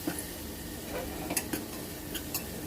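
Coriander sizzling in a dal tempering for a Maharashtrian veg thali, a low steady frying hiss with light stirring clicks and a few soft pops.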